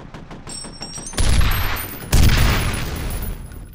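Heavy gunfire from the first-person shooter F.E.A.R., arriving in two loud sustained bursts of rapid shots that ring out and slowly fade over faint background game ambience.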